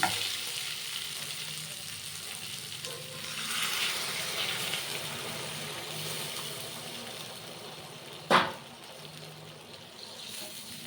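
Masala for a Pabda fish curry with potatoes sizzles and fries steadily in oil as water is poured in, with a sharp clatter near the end.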